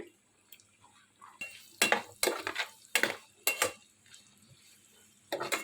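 Sliced onions and green chillies are stirred in a pan for a simple curry, a series of scraping, clattering utensil strokes against the pan in irregular bursts, close and fairly loud, with quiet gaps between.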